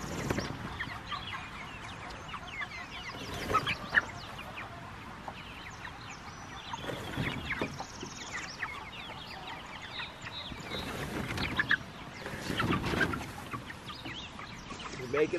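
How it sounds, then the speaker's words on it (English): Meat chickens cluck and chatter steadily at feeding time on pasture, a busy flock of overlapping calls, fairly soft, with a few louder rustling bursts. "Alright, let's feed the meat birds first."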